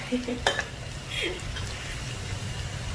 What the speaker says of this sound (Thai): ทอดให้มีความเหลืองกรอบขึ้นมาเลยนะ